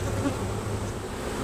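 Honeybee colony buzzing during a spring hive inspection, a dense, steady hum held close up and unbroken with no talk.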